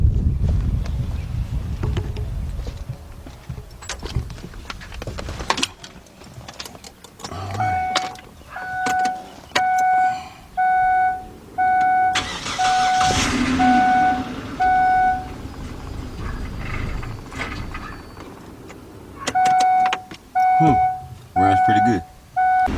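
A car engine cranks and runs after a timing belt and water pump replacement on a Kia or Hyundai V6, idling steadily amid repeated electronic chimes and nearby talk.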